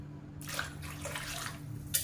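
Water is poured into a pot of sambar as it cooks, a soft splashing trickle in short bursts that stays fairly faint.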